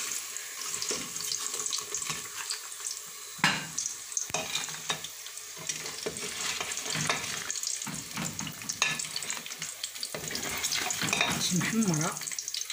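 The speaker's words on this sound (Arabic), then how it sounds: "أول حاجة كتهناي من داك الزيت كيطير لك على البوطة" Potato chips fry in hot oil in a deep pot, giving a steady, loud, dense sizzle and crackle with bursts of bubbling and spattering throughout.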